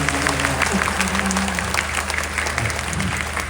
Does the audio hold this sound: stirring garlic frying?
no